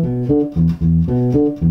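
Bass guitar playing a song's bass line, a loud, close, throbbing run of short repeated low notes in a driving rhythm, heard alone without speech.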